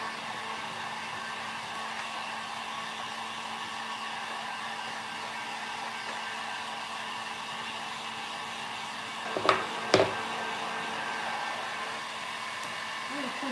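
A hair dryer blows steadily at close range while drying Christmas craft decor finished with decoupage and chalk paint, a constant whooshing drone with a couple of brief knocks near the end.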